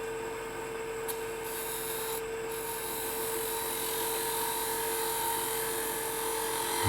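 A wood lathe turns a wooden tea light holder as a tool cuts away wood, making a steady, loud whirring hum with a constant tone under a rough, scraping hiss that holds unbroken throughout, with no talk.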